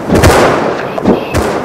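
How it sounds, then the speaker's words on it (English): Gunfire in the survival game Rust comes as a few sharp, loud cracks: a pair of close shots, then two more about a second later, over a dull outdoor background. "There's a whole lot of gunfire around here."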